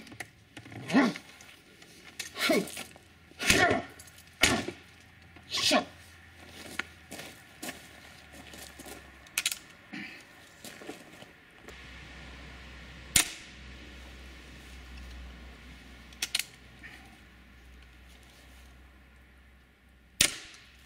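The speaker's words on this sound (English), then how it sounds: "cock it again, and fire a bolt into the zombie's brain" Crossbow being cocked and bolts fired into a zombie target, a series of sharp snapping releases and thuds spaced irregularly, loud and close, with quieter mechanical clicks between them and no voices.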